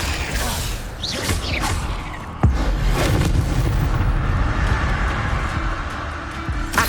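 A fire spell cast in Hogwarts Legacy on PS5 Pro lands as a sharp boom partway through, then a sustained roaring rumble continues over busy swishing and clanking combat effects.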